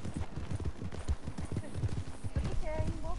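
Horse hooves clip-clop at a gallop in the game Red Dead Redemption, a fast regular drumming of hoofbeats, with a brief whinny near the end and voices talking over it.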